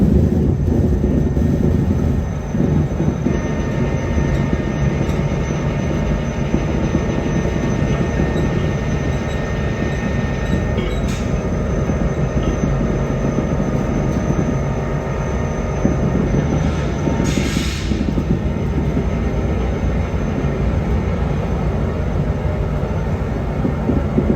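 A string of diesel locomotives creeps ahead after refuelling, a steady loud engine rumble with continuous low mechanical drone and a brief high screech midway, no voices.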